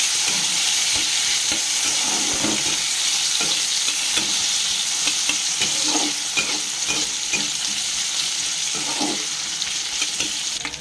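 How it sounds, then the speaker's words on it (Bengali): Plum chutney made with dried plums, mango leather and sugar sizzles in a frying pan while a spoon stirs it in repeated scraping strokes. The sound is steady and close, with no voices. "ভালো করে নাড়িয়ে নিচ্ছি চিনিটা দিয়ে"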